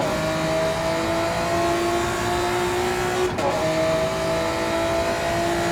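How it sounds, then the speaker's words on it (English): GT2 racing cars, including a Porsche and an NSX, in a Gran Turismo 7 endurance race give a steady, droning engine note that holds pitch, with a brief dip midway before the hum resumes. "Vex using the grunt of that Porsche to get past him into the final turn."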